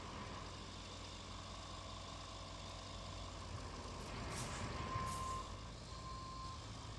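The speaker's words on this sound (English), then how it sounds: "Oh, it's because the truck is basically stuck." Reversing beeps from a truck stuck on a small lip in RoadCraft, a steady high alarm tone repeating over a constant engine drone, with a faint hiss of air brakes partway through.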